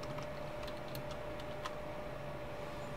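Typing on a computer keyboard, a few light, scattered key clicks that are faint and close against a steady background hum.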